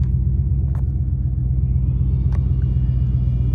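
Ram pickup truck with a muffler delete, its exhaust giving a steady deep rumble close by, with a couple of faint higher ticks over the low drone and no talking.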